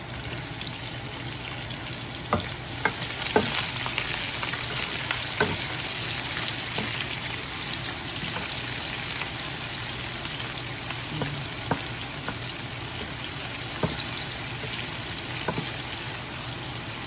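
Onions sauté in hot oil in a pan after the garlic, a continuous bright sizzle with periodic sharp ticks from stirring, close and steady for the whole stretch with no talking.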